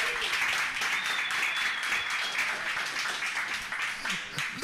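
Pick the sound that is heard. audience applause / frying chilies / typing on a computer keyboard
audience applause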